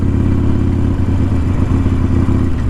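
A motorcycle rides along the beach at Campo in Westport, its engine a loud, steady, close rumble with constant wind-like roar throughout.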